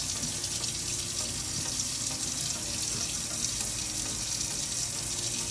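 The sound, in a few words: water running from a tap into a sink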